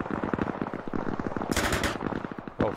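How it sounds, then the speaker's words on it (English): Rapid automatic gunfire crackles in bursts in the military video game Arma Reforger, a fast rattling stream of shots with a sharper burst near the end, heard alone without talk. "The gunfire in the distance sounds really good."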